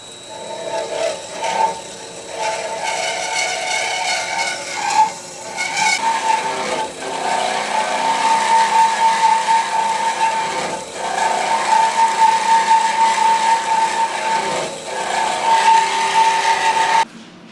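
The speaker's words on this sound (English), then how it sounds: "now all I have to do is open my valve here and start it" Revolution Machine Tools bandsaw cutting metal in a fabrication shop, a steady close mechanical whine with a ringing blade tone running throughout, with small bumps and rattles along the way.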